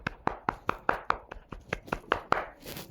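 A single pair of hands claps in a steady, even rhythm, about a dozen crisp, close claps over a few seconds, with no voices.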